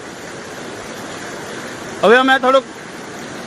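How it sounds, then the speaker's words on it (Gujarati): Heavy floodwater from the Ojat river in Gujarat surges during torrential rain. A steady, close rushing roar of water runs throughout, and someone speaks briefly over it. "ધોધમાર પાણીનો પ્રવાહ આવી રહ્યો છે ઓજત નદીમાંથી।"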